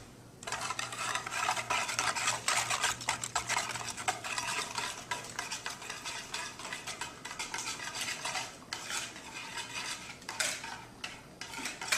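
Steady, close stirring of a homemade ice cream mixture, a spoon scraping and swishing against a bowl in continuous rhythmic strokes for the whole stretch, no talking.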